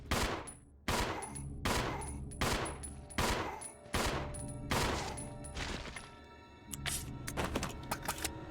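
Heavy weapon fire in the survival-horror game Resident Evil 0, a run of loud, evenly spaced blasts roughly every second, each with a booming tail, then a quicker, rapid burst of shots at the end.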